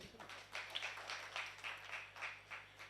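Scattered, soft clapping from an audience at a Hindi kavi sammelan poetry recital in Raj Bhawan, Hazratganj, Lucknow, faint and uneven for a few seconds over a low steady hum.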